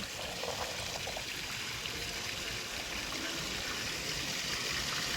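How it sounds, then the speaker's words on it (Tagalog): Steady water fountain at the Ilog Pasig Esplanade, a continuous broadband rush of splashing and pouring water, fairly close and unbroken, with no voices. "yung fountain ay talagang napakaganda po ng ating fountain dito sa may Ilog Pasig Esplanade"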